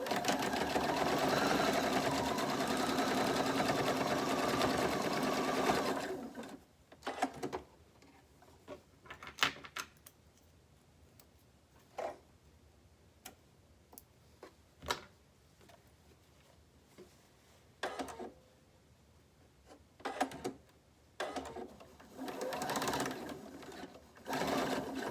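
A sewing machine runs a fast continuous stitch on a fabric face mask for several seconds, then stops, followed by scattered clicks, knocks and short bursts of handling noise.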